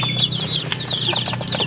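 Several upgraded native chickens cluck and chatter close by in their coop, with a few higher squawks over a low steady background hum.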